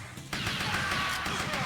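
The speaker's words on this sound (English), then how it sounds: "you have to shoot the glass and then the dude" Gunfire and shattering truck window glass in the arcade game Virtual Cop, with a sudden crash that breaks into a dense burst of rattling glass and game sound, loud and close.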